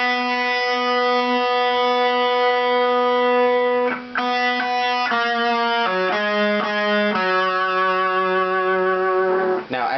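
A distorted electric guitar plays a lick: a sustained note followed by a run of about a dozen short, picked single notes, loud and clear with no talking.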